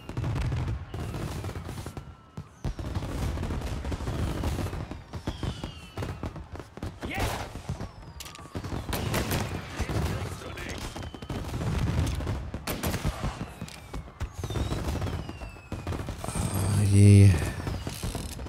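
Repeated gunshots crack out through a Mafia Definitive Edition firefight, scattered bursts and single pistol shots spread over the stretch, with a loud clustered volley near the end and game voices in the background.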